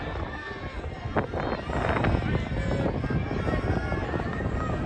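Gusty wind at an outdoor track and field championship meet, a constant low rumbling buffet across the microphone that swells midway and stays loud, with a voice talking over it.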